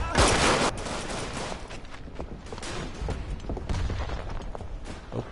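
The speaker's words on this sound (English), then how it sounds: "The hand grenades going over on the side." Dense gunfire and hand grenade blasts on a World War I battlefield in the game Verdun, a loud burst up front followed by continuous crackling rifle and machine gun fire with thuds at middle distance.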